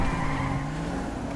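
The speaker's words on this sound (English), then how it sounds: "A white car just went speeding past me." A car in GTA V speeds past with a steady, loud engine roar and a hint of tire noise, close and alone without talk.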